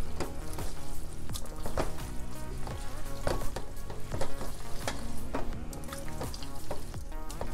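Boiled eggs stirred into a pan of Liberian-style spaghetti sauce, with repeated scraping and clacking strokes of the stirring utensil over a steady close sizzle of the sauce cooking on the stove.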